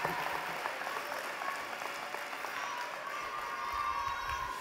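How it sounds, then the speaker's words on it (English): Graduation ceremony audience at Platt College gives a round of applause: dense, continuous clapping heard from a moderate distance, fairly soft, with a hint of crowd murmur underneath. "Let's give them a round of applause."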